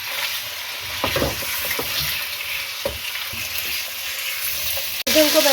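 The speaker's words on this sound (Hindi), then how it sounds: "इसे हाई फ्लेम पर फ्राई कर लें।" About 800 grams of chicken frying in oil in a kadai over a high flame for chicken salan, a loud continuous sizzle with stirring knocks, ending in a sudden louder burst.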